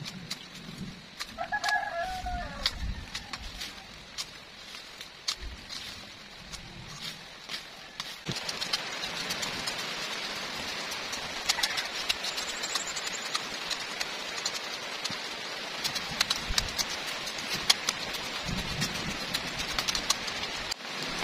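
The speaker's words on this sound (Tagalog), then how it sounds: "Lumalakas na po ang ulan." Light patter swells into a denser rain hiss partway through and keeps building in a garden, with a rooster crowing and clucking early on.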